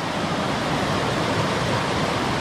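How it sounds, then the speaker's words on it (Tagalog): A river at Sitio Racoranom on Babuyan Island rushes along, giving a constant, dense hiss of flowing water with no breaks or voices. "ito po yung ilog dito sa amin"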